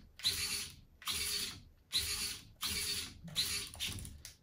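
3D-printed gearbox and sprocket of a BB-8 droid build running under test, giving five evenly spaced bursts of whirring, clicking mechanism noise, each about half a second long and close by, with short quiet gaps between.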